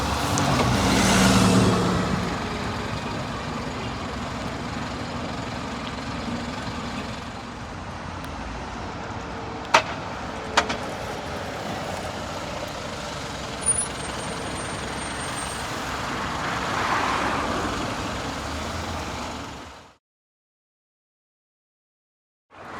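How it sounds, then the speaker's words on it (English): A Dennis Trident Optare Olympus double-decker bus pulls into Southampton Central Station, its engine rumbling steadily close by with a couple of sharp air-brake hisses and clicks midway, ending abruptly in silence. "here is another Trident Olympus arriving into Southampton Central Station"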